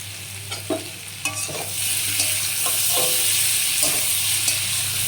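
Vegetarian papaya curry frying in a pan with chili powder added, a steady close sizzle broken by several knocks and scrapes of a spoon stirring, with no talking.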